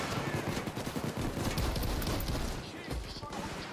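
Rapid bursts of gunfire in the video game PayDay 2, dense overlapping shots forming a continuous loud barrage throughout, with game sounds blended in.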